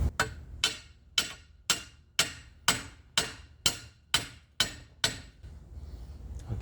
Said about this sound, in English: I'm going to hammer down from the top.